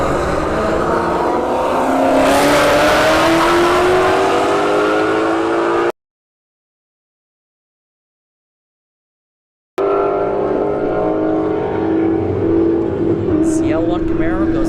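A ZL1 Camaro roars down the drag strip lane at a windy motorsports park, a loud sustained engine rising in pitch, cut by a brief gap of silence, then a continued drone as an announcer talks over it.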